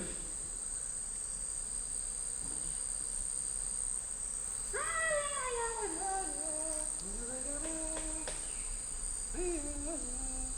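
Bees buzz around palm wine, their drones swooping up and down in pitch as they pass close, over a constant high insect whine.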